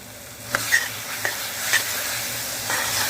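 Stirring a thick jamun (Java plum) fruit vadi mixture in a pan with the gas turned off: steady scraping and faint sizzling, with a few sharper spoon scrapes against the pan.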